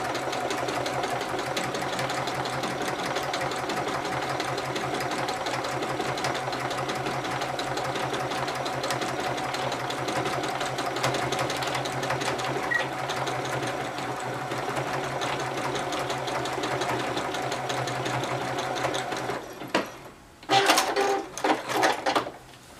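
Sewing machine stitching forward and backward on fabric, a steady continuous mechanical whir throughout, ending in a few short clicks and bursts as the stitching stops.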